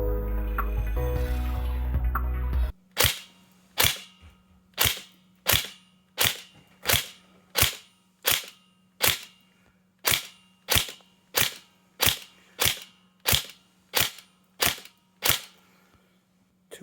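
A Tokyo Marui 416D Devgru NGRS airsoft rifle fires single shots through a chronograph: about sixteen sharp, close snaps evenly spaced under a second apart, after a few seconds of steady background noise.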